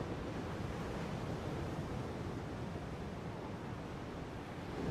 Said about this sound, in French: Il y a partout des bonnes vagues, tu vois.